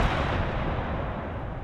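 Demolisher rocket HE shell fire in the Gates of Hell Warhammer 40K mod, a dense, continuous loud rumbling blast of artillery-like explosions filling the whole moment with no break.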